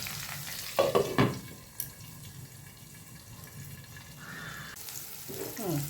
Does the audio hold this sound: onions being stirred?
yes